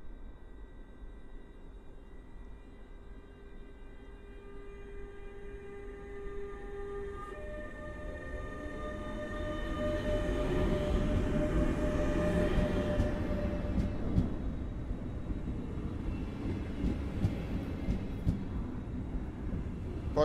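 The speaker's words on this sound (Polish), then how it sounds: "Pociąg osobowy Kolei Mazowieckich do Skarżyska Kamiennej." A Koleje Mazowieckie passenger train bound for Skarżysko-Kamienna, hauled by an electric locomotive, passes at Warszawa Zachodnia station after dark. A faint distant tonal hum is followed by a swelling rumble of wheels and cars at middle distance.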